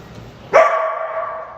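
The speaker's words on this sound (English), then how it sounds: "Did he bark at you too?" A dog lets out a single sharp, loud bark close by, its tone ringing out briefly before fading into quiet.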